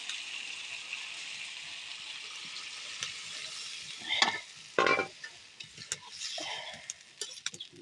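Tomatoes sautéing in a pan for a fish curry give a soft, steady sizzle, broken by a few sharper scraping stirs midway and some light clatter toward the end.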